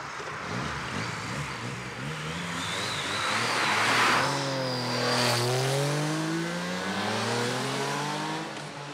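A car speeds at about 115 km/h through a 50 km/h zone on a French coastal road in the Alpes-Maritimes, its engine rising from a distant approach to a loud, close whine and then dropping in pitch as it races past.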